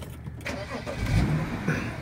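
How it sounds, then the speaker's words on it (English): A car engine cranks and catches, rising into a low steady rumble close by, with brief mechanical clicks before the start and no talking. "So to start this, I'm going to turn the car on."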